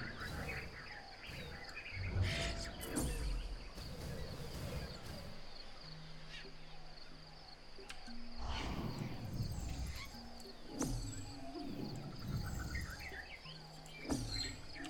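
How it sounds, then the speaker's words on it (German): Ambient birdsong in the jungle of Ancestors: The Humankind Odyssey, scattered chirps and calls over an insect-like hum, moderately faint and continuous with no talk. "Also man hört halt Vögel und so einen Spaß,"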